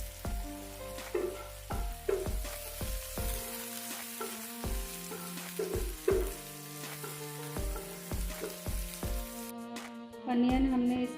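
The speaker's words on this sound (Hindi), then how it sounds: "क्यूमिन अब क्रैकल होने लगा है, तो हम इसमें ऐड करेंगे जो हमने ऑनियन लिया हुआ है, उसको हम ऐड कर लेते हैं" Cumin seeds crackle in hot oil as chopped onions go into the pan, a steady sizzle sitting under louder background music, with a fresh burst of frying near the end.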